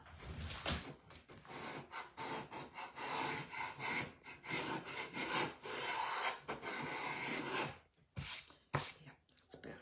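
A scraper rasps steadily across a surface while working on a framed snowman, with repeated rough strokes close up. A short pause near the end breaks the scraping before it picks up again.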